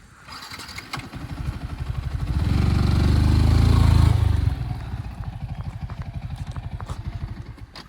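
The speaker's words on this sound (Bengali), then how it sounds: "আর এই কাকা আসছে আমাদের বাইক নিয়ে আজকে" A motorcycle engine runs nearby as the bike is brought in, a steady chugging idle that swells louder in the middle and then eases back to a rattling putter.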